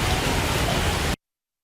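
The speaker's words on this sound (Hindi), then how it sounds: "दोपहर दोपहर से निरंतर जो बारिश जारी है" Heavy rain pours steadily during river flooding that has swamped a temple, a dense, even broadband hiss that stays loud and constant before cutting off abruptly.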